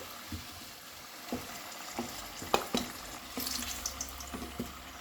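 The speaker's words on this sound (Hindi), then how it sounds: "आप देख सकते हैं आलू अब हमारा फ्राई हो गया है।" Skin-on potatoes fry in mustard oil with a soft, steady sizzle, broken by scattered clicks and scrapes of stirring in the pan.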